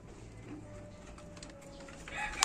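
Young pullets cluck softly at a moderate distance, a few short calls over quiet farmyard background, with a sharper call near the end.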